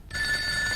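A home telephone in a Telugu family comedy film scene rings with a brief, steady electronic bell tone, heard alone for under a second.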